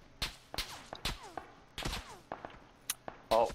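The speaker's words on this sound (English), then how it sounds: "those guys are shooting at you, Matt" Bursts of video game gunfire crack out in several sharp, separated volleys, loud and close, with brief gaps between shots as enemies fire on a player's position.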